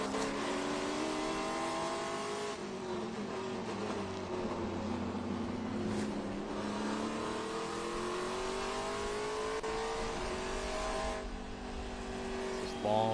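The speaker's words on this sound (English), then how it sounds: "Audrick up the hill underneath the little Corvette bridge" Race cars on the Road America circuit climb a hill under a bridge, engines roaring loud and continuously with rising and falling revs as the cars sweep past, under a commentator's voice.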